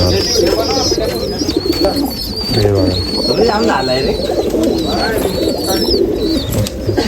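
Pigeons coo steadily and close, with rolling coos layered over a busy background of higher chirps.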